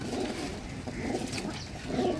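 Pearl-marked pigeons of a rare house breed coo softly at close range, low murmuring calls rising and falling over a dense, steady background hum.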